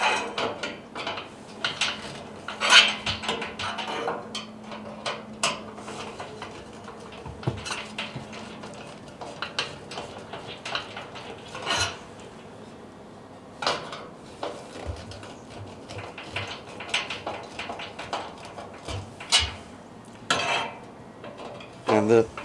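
Screwdriver retightening screws on a Char-Broil Big Easy cooker, a long run of small close metallic clinks, scrapes and ratcheting taps in an irregular rhythm, moderately loud, with no talking.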